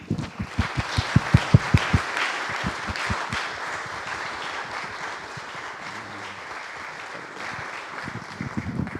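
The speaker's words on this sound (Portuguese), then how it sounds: "darmos uma salva de palmas a todos estes que nos transmitiram as melhores saudações" A hall audience at the centenary celebration of the Portuguese Evangelical Alliance breaks into loud, sharp clapping that peaks early, then settles into a steady, softer patter for the rest of the stretch, with no voices over it.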